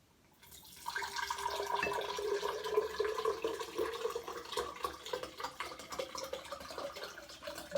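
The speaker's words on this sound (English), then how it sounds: "let's see what happens if I pour this in here" Liquid poured from one container into another, a steady trickling, splashing stream that begins after a short pause and runs for several seconds with bubbly drips, quiet and close with no talking.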